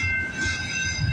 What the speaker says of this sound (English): Yeah, this train has lots of auto racks.